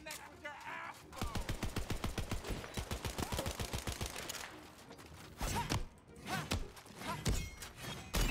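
A submachine gun in Tiny Tina's Wonderlands fires a long full-auto burst of rapid, evenly spaced shots, followed by shorter bursts and scattered bangs, with a player talking alongside.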